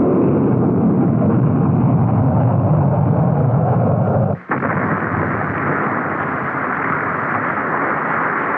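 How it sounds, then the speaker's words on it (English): A 1963 NASA rocket exploding in flight at the Cape: a loud, continuous roaring rumble with a brief dropout midway before the heavy blast noise resumes, steady and dense throughout with no voices. "This early flight ended with an explosion that was visible for miles."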